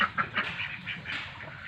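Ducks quacking at a village duck house in rural northeast India, a close cluster of repeated nasal quacks and honks overlapping in quick succession.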